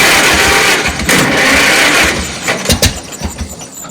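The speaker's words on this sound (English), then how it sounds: "So she wanted to start." An old tractor engine being cranked with the switch on and in neutral, loud churning starter bursts that catch briefly and sputter, fading into uneven chugging pulses near the end.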